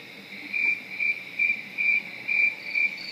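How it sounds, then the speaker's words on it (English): A recorded grasshopper chirping, played from a tape, in regular bursts: about seven evenly spaced buzzy chirps over a quiet background, clear and close. "could you help me make a grasshopper sound?"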